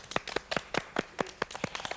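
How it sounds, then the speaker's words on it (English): Children clap their hands together in a fast, steady rhythm, with about a dozen crisp, moderately close claps in two seconds. "Simon says to clap your hands."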